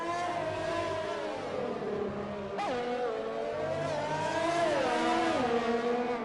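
An F1 race car engine in the F1 2020 racing game on the Russia circuit, a steady high-pitched whine with shifting revs and a sharp gear-change blip partway through, loud and continuous throughout.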